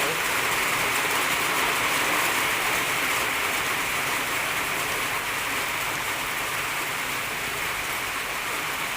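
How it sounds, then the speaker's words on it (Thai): Rain pouring down outdoors, a constant, even hiss of heavy drops striking surfaces, loud and unbroken throughout, with no clear speech. "ฝนมาอีกแล้วนะคะ"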